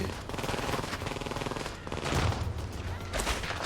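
Rapid gunfire from the video game First Light rattles in dense bursts throughout, loud and continuous, with game audio layered underneath.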